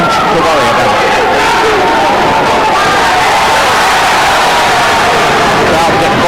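A boxing crowd at a WBO bantamweight bout between Duke McKenzie and Gaby Canizales roars in a dense, sustained wave of noise and cheering, loud and continuous, with commentary talk running over it.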